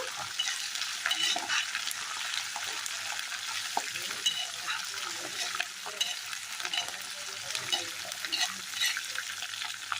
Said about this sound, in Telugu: ఇలా కలుపుకుంటూ 1 నిమిషం వేగించుకోవాలండి